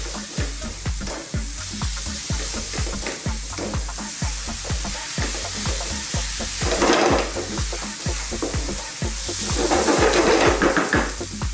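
Beef with spices and powders stirred in a hot pan for a curry, a steady frying sizzle under repeated rhythmic scraping strokes of the spoon, close and fairly loud, the hiss swelling briefly twice.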